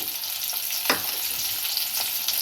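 Spinach with small shallots sizzles softly in a pan as it is stirred, a steady low frying hiss with one scrape of a spoon.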